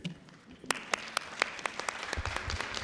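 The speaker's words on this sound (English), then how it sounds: "We'll applaud." Luncheon audience at a university inclusion and achievement awards event applauding, a scattered patter of claps with a few sharper individual claps standing out, moderately faint and heard alone.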